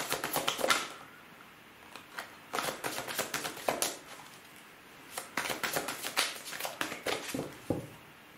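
Tarot-style cards drawn from a deck and laid out one by one, producing bursts of crisp, close paper flicks, slides and taps separated by short pauses, with no talking.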